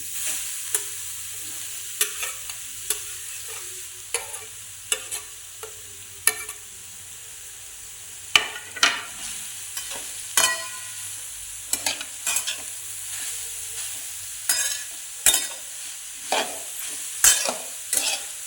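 A spoon scrapes and stirs carrot halwa in a kadhai in repeated short strokes, with a faint sizzle from the pan underneath throughout.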